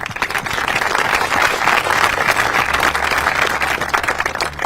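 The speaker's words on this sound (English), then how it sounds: "Let's give him a round of applause" Sustained applause from an audience at a military ribbon cutting ceremony at Nellis, steady clapping throughout with no talk over it.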